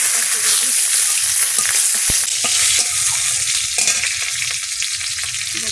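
Dry and green chillies with whole spices hitting hot oil in a wok, a bright crackling sizzle with occasional sharp spatters and stirring scrapes, continuous and close.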